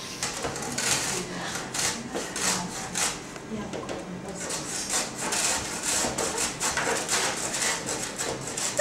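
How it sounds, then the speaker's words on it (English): Squash being rubbed against a hand grater into small pieces, a steady run of close, rasping scrapes in repeated strokes with no talk over it. "we're going to use a grater. This here is a grater. What we do is we can rub on it to create little pieces"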